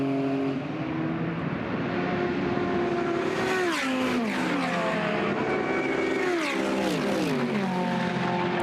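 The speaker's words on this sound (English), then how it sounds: "All the different engine notes screen past up towards the chicane." GT race cars at Paul Ricard in a Blancpain GT Sports Club race roar past one after another, their engine notes rising and falling as each car sweeps by toward the chicane, loud and continuous.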